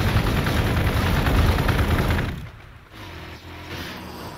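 Tactical Marines firing weapons in the strategy game Warhammer 40k Gladius Relics of War, a dense continuous roar of gunfire that cuts off midway and leaves a quieter rumbling tail.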